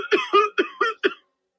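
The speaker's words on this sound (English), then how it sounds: "he began to cough again" A man coughs five times in a quick, evenly spaced fit, the harsh bursts close and clear before silence.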